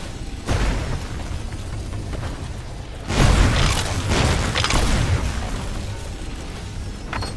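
Cannons fire in the video game Soulmask, heavy booming blasts with a loud burst near the middle followed by rumbling debris and a lingering roar, near and forceful.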